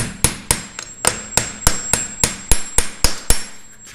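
Hammer blows on a VW split bus spindle during removal, roughly a dozen hard, evenly paced metallic strikes about three per second, loud and close with brief ringing after each hit.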